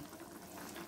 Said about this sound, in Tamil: இப்போ பார்த்தீங்கன்னா நல்லா கொதி வந்துருச்சு.